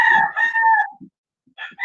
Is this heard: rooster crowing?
yes